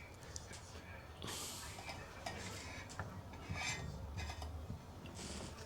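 A spoon scraping and clinking against a metal pot while stirring pork sinigang, with bursts of bright rattling and soft background speech, close and moderately quiet.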